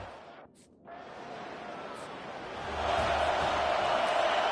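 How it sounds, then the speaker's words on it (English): Crowd at an American football stadium, a broad wash of cheering that swells louder and stays sustained toward the end, heard at a distance with no clear talk. "listen to this crowd noise. This stadium is vibrating"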